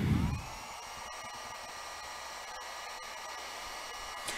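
A heat gun blows steadily close by, heating the cracked glass of a Nexus 6P phone during a glass replacement, a continuous airy hiss after a brief louder burst at the start.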